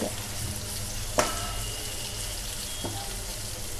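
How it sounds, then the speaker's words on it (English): Fenugreek leaves and garlic sizzle steadily in a pan over a high flame, with one sharp clink early on and a softer knock near the end, and no one speaking. "Keep the flame always in high while we fry the fenugreek leaves and"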